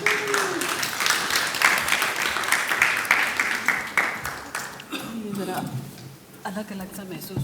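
Audience at a poetry mushaira applauds as a poet is welcomed, brisk clapping for several seconds that thins and fades, with a host's voice speaking over and after it.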